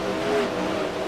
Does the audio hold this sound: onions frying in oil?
no